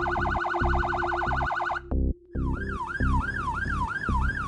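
An emergency vehicle's siren wails loud and close, a rapid yelp switching briefly off before resuming as a slower rising-falling wail, with a steady low horn-like tone pulsing beneath.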